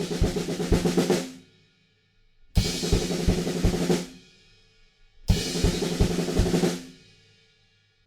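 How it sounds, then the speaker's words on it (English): A drum kit plays a build-up fill from a song, three bursts of rapid kick and snare hits with ringing cymbals, each breaking off into a short pause before the next. "There's a little build-up fill before we kind of take that same groove and just straighten it up a bit"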